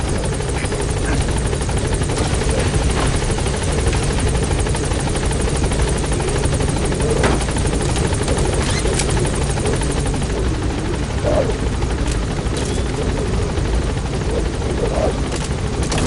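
Pequod, the transport helicopter from Metal Gear Solid V: The Phantom Pain, holds a steady, loud rotor drone throughout, continuous and close with faint incidental ticks over the dense hum.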